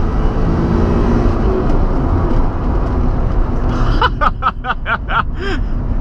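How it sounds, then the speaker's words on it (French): A Ford Probe V6 engine pulls steadily and loudly from inside the car while driving, its broad drone rising in revs toward the end, where a few short, sharp higher-pitched bursts cut through the engine noise. "le V6 chante bien."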